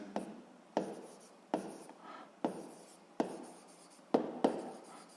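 A pen writes by hand during a seventh-grade physics lesson, making quiet, rhythmic scratchy strokes that start sharply and trail off, about one every second, heard alone.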